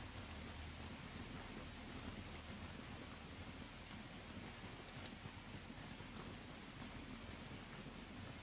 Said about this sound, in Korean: 날씨가 흐리더니 비가 오네요.